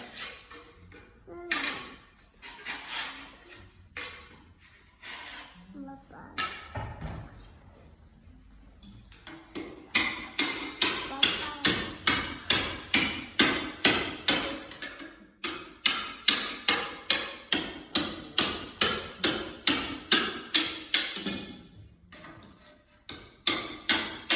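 Slate is hand dressed and cut at the National Slate Museum in Llanberis, with sharp rhythmic knocks struck in fast regular runs that grow louder after a quieter start, close by, and brief pauses between the runs.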